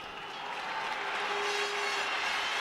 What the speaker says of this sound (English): It's a sellout crowd